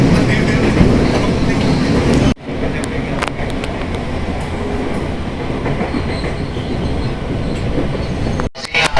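A Jakarta commuter train passing through Pasar Senen station rumbles and rattles loudly along the tracks with clickety-clack wheel noise, with brief dropouts and faint voices in the mix.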